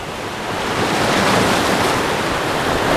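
Ocean surf breaking on a beach, a continuous broad roar of waves that swells slightly louder and stays full and close throughout, mixed with wind rush and no voices.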